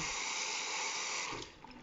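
Water runs from the tap of a basin sink into the bowl as a constant close hiss and splash, then thins and softens slightly near the end.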